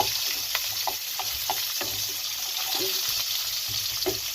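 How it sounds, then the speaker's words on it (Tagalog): Garlic and onion sauté in a hot pan with a constant hissing sizzle, broken by soft scraping strokes of a spatula as the mix is stirred, and nobody speaks. "gisahin natin ang bawang, sibuyas"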